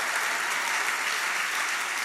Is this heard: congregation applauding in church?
yes